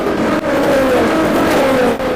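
A race car at the 24 Hours of Le Mans roars past, loud and close, its engine whine sweeping in pitch as it goes by over the course of about two seconds.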